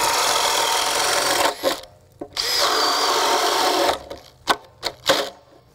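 A Makita 40V max XGT brushless 1/2-inch hammer drill-driver bores into wood beside a knot with a loud, steady grinding whine, stops abruptly, restarts briefly, then ends in a few short bursts as it cuts out.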